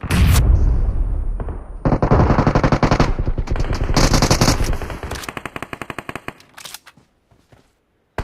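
Rapid automatic gunfire from a video game shooter rattles loudly and continuously, with dense bursts that thin into scattered single shots before fading near the end.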